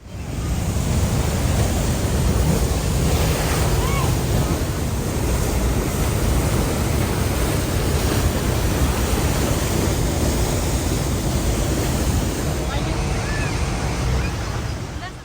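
Rhine Falls at Schaffhausen, Switzerland, roars as a boat moves slowly past the waterfall, a loud, dense, unbroken rush of crashing water mixed with wind buffeting the microphone throughout.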